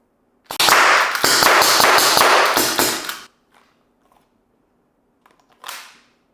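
Tokyo Marui SOCOM MK23 airsoft pistol firing a rapid burst of close, sharp shots for about three seconds, followed by a brief pause and one faint trailing sound, with no talking.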